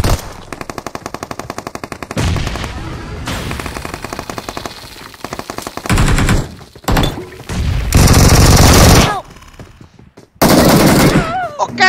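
Rapid automatic Vector gunfire in PUBG Mobile, loud close bursts of fast shots, then heavier overlapping gunfire and louder blasts with brief gaps between volleys, and voices talking over the gameplay.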